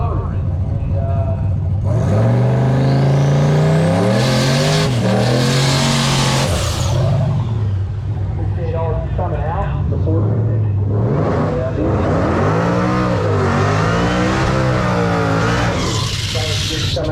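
A drag race car with a turbocharged junkyard 5.3 LS engine revs hard and loud, rising in pitch through repeated runs with tire squeal during burnouts, sustained near and dominant for the whole stretch.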